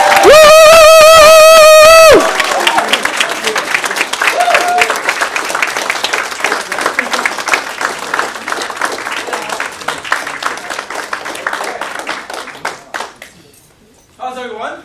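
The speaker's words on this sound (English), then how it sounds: "So please give me a standing ovation to welcome our guest speaker." A live audience breaks into a standing ovation for a guest speaker, dense clapping and cheering filling the room for over ten seconds after a short loud musical sting, then fading out as a voice takes over.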